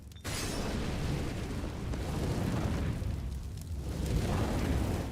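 A thrown fire bomb explodes in a video game: a broad, loud roaring burst that flares up at once and keeps rumbling and swelling for several seconds, with no talk over it.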